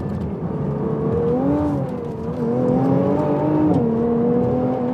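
A Toyota GR Yaris or Nissan GT-R Nismo, both four-wheel-drive performance cars, drives hard on a track in slippery conditions, its engine note rising and falling in whining tones under a steady rushing drone, with no talk.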